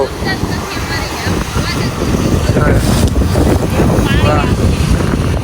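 Strong, cool sea wind buffeting the microphone in gusty rumbles in Dwarka, with distant chatter in the background.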